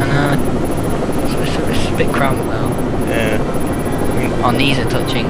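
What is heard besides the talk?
helicopter in a video game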